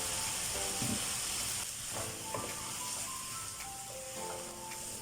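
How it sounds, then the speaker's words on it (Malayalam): Chicken roast sautéing in a pan until browned, a faint steady sizzle with soft stirring scrapes and a quiet tonal background. "നല്ല ബ്രൗൺ ആൻഡ് ബ്ലാക്ക് കളറാവണ വരെ വഴറ്റി കൊടുക്കണം"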